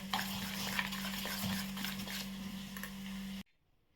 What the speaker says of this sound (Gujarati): થોડું મીઠું આપણે આમાં એડ કરી દઈશું અને પછી હલાવી લઈશું